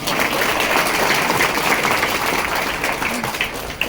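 A team meeting audience claps steadily for about four seconds, a dense, even wash of applause with no pauses and no clear voices.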